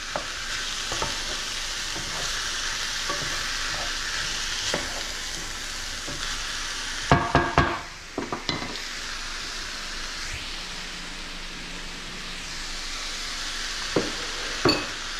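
Diced tempeh sizzles and fries steadily in a pan for a vegan pineapple stir fry, with scraping stirs and a few sharper clanks of the utensil against the pan near the end.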